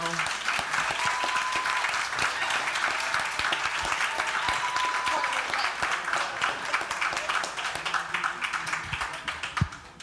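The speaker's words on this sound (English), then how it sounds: "let's get a big round of applause for our panel" Crowd at a Freedom Summer anniversary event applauding a panel, sustained clapping with sharp individual hand claps near the front, thinning toward the end as voices come through underneath.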